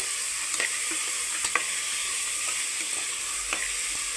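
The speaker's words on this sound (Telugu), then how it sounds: "స్టవ్ని హై ఫ్లేమ్ పెట్టేసుకొని మనము ముందుగా నానబెట్టుకున్న శనగల్ని కూడా వేసేసుకుందామండి వేసి వీటిని కూడా బాగా మిక్స్ చేసేసుకుందాం" Soaked chickpeas fry in a pan over high flame under a constant bright sizzle, while a spoon stirs them with a few soft scraping strokes spaced a second or so apart.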